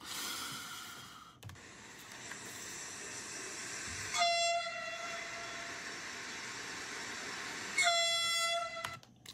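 A train passes with a rumbling roll, and its loud multi-tone horn sounds twice, once at about four seconds and again near eight seconds, carrying clearly over the steady rail noise with no talk.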